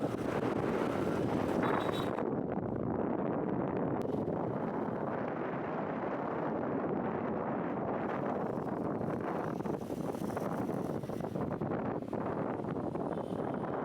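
Heavy wind buffets the microphone while riding a motorbike, a loud, constant roaring rumble that continues without a break for the whole stretch, with no talk over it.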